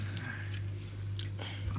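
Someone bites into juicy chicken up close, with a few short moist bites and chewing sounds over a constant low hum.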